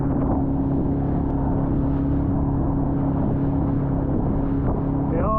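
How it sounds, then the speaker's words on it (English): A motorboat drones close by in a harbour, heard from a sailing boat, with a steady low engine rumble mixed with wind buffeting the microphone throughout. "A motorboat, but he's similar sort of size to us."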